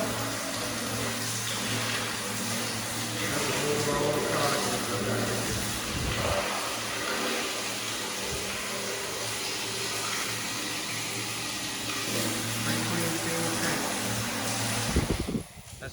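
Water rushes steadily into a John Deere sprayer tank as it is flushed out, a continuous loud hiss and splash that fills the whole stretch under a low engine drone, ending with a brief clunk.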